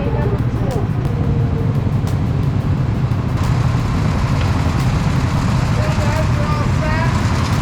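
Go-kart driven around a track and recorded on a GoPro Hero 9's built-in mic: a loud, steady engine drone with rumble and wind buffeting, while a voice talks faintly underneath.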